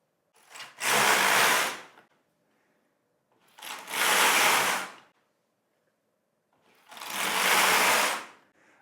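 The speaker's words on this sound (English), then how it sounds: "now I knit a few rows of waste yarn, about 3 to 5, 7, just depending on the mood" A Singer Solo hand knitting machine knits rows of waste yarn: three loud, close carriage passes of about a second each, a whirring rasp rising and falling, separated by near silence.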